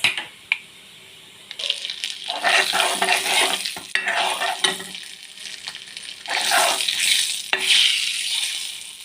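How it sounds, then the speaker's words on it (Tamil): Chili powder sautés in oil for sambar, heard as bursts of close, hissing sizzle that swell and fade with stirring, with brief quiet gaps and a few sharp clicks between them. "இப்போ கொஞ்சமாக மிளகாத்தூள் ஆட் பண்ணி எண்ணெயிலே கொஞ்சம் வதக்கி வேணும் ஃப்ரெண்ட்ஸ்"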